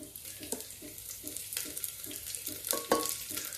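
Garlic added to hot oil with cumin and two chillies on a low flame, soft sizzling under rhythmic stirring scrapes, quiet and close, with a brighter crackle near the end.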